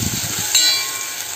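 Two small tomatoes frying in a pan give off a steady, close broadband hiss, with a brief clink partway through.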